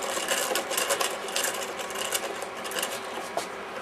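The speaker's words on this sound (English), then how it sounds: "with this crank handle, which is inserted there, you just wind in an anti-clockwise direction. This winds up the elastic" A crank handle winding the old elastic rubber motor of a Keil Kraft Eaglet model plane gives a rapid, steady whirring ratchet-like clatter, close and continuous, with no talking.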